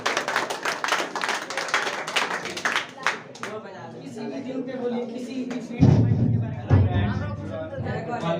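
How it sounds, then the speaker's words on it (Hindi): Classroom audience at a Children's Day coaching-centre celebration clapping to welcome a student, a few seconds of brisk group clapping that fades into crowd murmur, followed by a voice speaking. "तालियों के साथ हम स्वागत करेंगे।"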